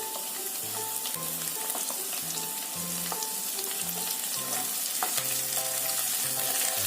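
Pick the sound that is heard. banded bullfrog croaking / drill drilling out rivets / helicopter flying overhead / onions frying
onions frying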